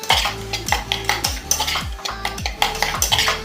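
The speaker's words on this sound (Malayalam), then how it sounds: "ഈ പൊടിയിലൊക്കെ പച്ചമണമൊക്കെ ഒന്ന് മാറുന്നത് വരെ ഒന്ന് നന്നായി ഇളക്കി കൊടുക്കണം" A spoon scrapes and clatters against a pan as chili and turmeric powder are stirred for a chicken curry. The strokes come close and loud in a steady repeated rhythm, with a faint sizzle and no talking.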